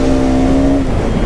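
A steady, loud engine drone with a sustained tonal whine from an RS200 motorcycle being ridden on the road, close and continuous for a brief moment.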